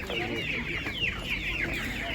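Several hens clucking nearby in a busy chorus at an animal market in Ivano-Frankivsk, with overlapping calls and faint background chatter.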